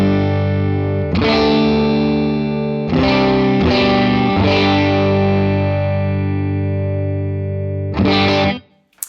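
A heavily distorted electric guitar on the middle pickup position rings out sustained chords, about five struck in turn with long decays between, loud and alone before cutting off abruptly at the end.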